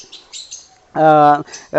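Birds chirp close by in quick high twitters, followed by a louder, longer harmonic call and more short chirps.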